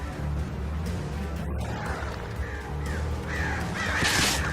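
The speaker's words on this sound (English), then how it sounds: "Come on now, birds." Crows caw in the video game Alan Wake, several harsh calls spaced across the moment over a low rumbling game ambience, fairly close and loud.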